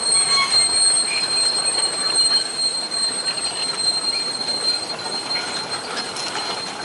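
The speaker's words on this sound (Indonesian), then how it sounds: "Terlihat rangkaian lori tebu yang dibawa oleh lokomotif ini lumayan panjang teman-teman" A locomotive hauls a long string of loaded sugarcane lorry wagons on a narrow-gauge sugar mill line, with loud steady wheel squeal and grinding rumble close by, no voices.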